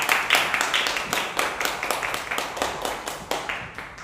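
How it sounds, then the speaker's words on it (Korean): An audience claps to welcome a lecturer at a youth academy held in a presidential memorial hall, a moderately close, uneven patter of hand claps with distinct individual strikes, fading slightly toward the end. "여러분 뜨거운 박수로"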